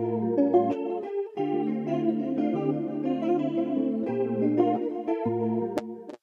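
An electric guitar plays sustained chords and melodic lines through a stereo delay plugin set to 1/8 on left and right with mix around 20%, a chorus-like, spacious effect, steady and fairly loud throughout.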